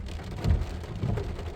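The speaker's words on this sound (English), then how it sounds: "Just a lot of saturated clouds right now with a lot of rain" Steady rain falls during a storm chase under saturated clouds, a dense hiss of drops with low rumbling swells building around the middle and again near the end, and no voices.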